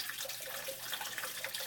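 Water runs steadily over a mini sluice for fine gold recovery, washing silty sediment away in a continuous close hiss and trickle with no voices.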